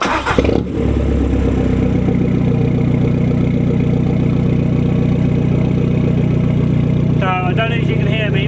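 A 300+ BHP Skoda Fabia VRS engine fires up with a brief starter burst, then settles into a steady, loud idle heard from close by for several seconds, with a voice speaking briefly near the end.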